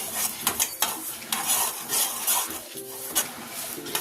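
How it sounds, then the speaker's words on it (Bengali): Panch phoron spices for a spicy mango oil pickle being stirred and fried in a pan, with steady metallic scraping and clinking of the spoon against the pot over a soft, continuous sizzle. "এই সবগুলো নাড়াচাড়া করে ভেজে নেব।"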